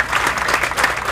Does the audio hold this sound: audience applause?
yes